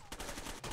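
Brief burst of video game gunfire, a few quick shots in fast succession, fairly quiet and short.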